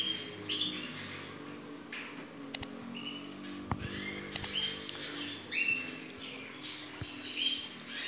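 A canary gives sharp chirps and squawks while being held and handled indoors, short irregular calls scattered across the moment with a few brief handling knocks and no talk.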